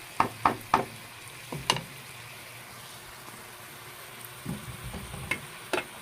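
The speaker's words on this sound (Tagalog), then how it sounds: "Hayaan lang natin magisa-gisa para kumapit yung lasa." Bicol express being sautéed in a pan, with a few sharp utensil clacks and scrapes in quick succession early on, then a steady low sizzle and later scattered stirring knocks, close and fairly quiet, with no speech.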